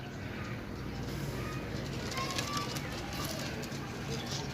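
Pigeons kept for sale in a loft at Sarai Alamgir, Gujrat, coo softly and repeatedly amid a busy, noisy background.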